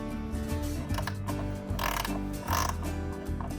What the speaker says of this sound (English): Thank God for a ratcheting wrench.